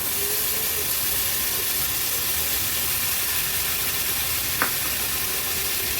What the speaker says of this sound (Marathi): आता ही स्वच्छ धुतलेली कालवं ऍड करूया।